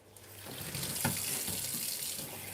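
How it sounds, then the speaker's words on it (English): A kitchen tap runs steadily while the cap of a milk foamer is rinsed under it. The water hisses and splashes continuously at close range, swelling slightly in the middle, with no talking. "So you're going to have some running water. I'll quickly wash the cap of the milk foamer."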